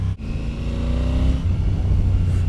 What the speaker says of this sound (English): I love the sound of this engine.